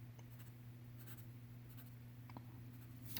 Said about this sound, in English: I'm going to write some equations.